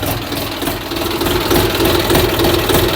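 A YTO 244 SX tractor engine idles while warming up, a steady close rumbling chug with even knocking pulses and no talk.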